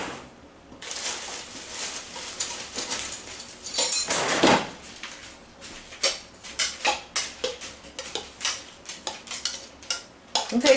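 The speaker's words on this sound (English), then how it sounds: "Let me spoon this out." Spoon scraping and knocking chopped vegetables out of a plastic Brieftons food chopper bowl, a run of close, irregular clinks and scrapes that grow more rhythmic toward the end, with no talking.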